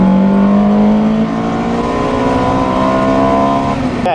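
A supercar fitted with a Novitec exhaust system revs loudly and close by, its engine note climbing and holding steady for several seconds before a sharp change at the very end.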